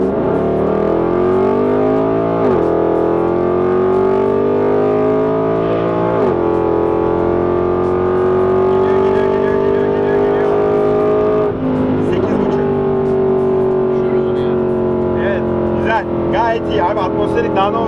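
A Mercedes-Benz C63 AMG engine drones loudly and steadily at high speed, its pitch climbing through gears with brief dips at each shift.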